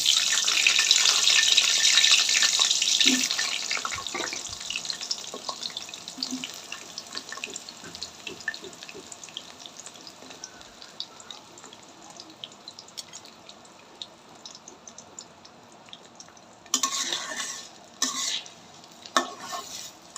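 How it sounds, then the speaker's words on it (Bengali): Potatoes frying in mustard oil in a kadai for chicken curry: a loud, bright hiss of hot oil that eases to a steady low sizzle with scattered pops, then brief louder bursts of crackling near the end; no one speaks. "লাল লাল করে আলুগুলা ভেজে নিব"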